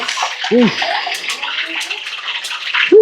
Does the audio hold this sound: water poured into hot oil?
yes